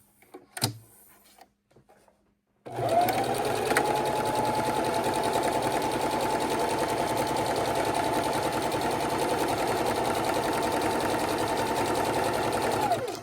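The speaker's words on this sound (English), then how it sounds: "The time has come to go ahead and start sewing our creation." After a few faint clicks and handling noises, a sewing machine runs steadily for about ten seconds, stitching a washable fabric bib with a continuous, even mechanical whir.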